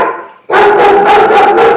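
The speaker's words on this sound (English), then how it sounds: "sorry about my dog." A dog barks close and loud in a short, sharp burst right after a brief quiet moment, the yaps running together over under two seconds.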